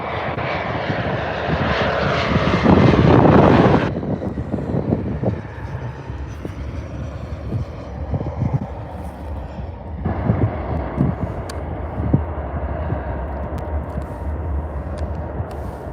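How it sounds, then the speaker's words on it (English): A CRJ-700 regional jet moving at DFW airport gives a loud, steady broadband engine roar that swells in the first few seconds, then settles into a continuous lower rumble with airport background noise. "The crappy regional jet 700 comes in."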